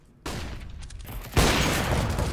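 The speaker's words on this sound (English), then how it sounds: "Flashbang out!" Flashbang grenade in the video game CS:GO, a sharp burst and then a louder boom with a lingering roar, close and loud against game background noise.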